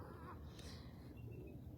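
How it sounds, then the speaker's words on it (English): A bird calls faintly at a marina, a single distant caw-like cry against a quiet background. "I'm just listening to the birds chirping,"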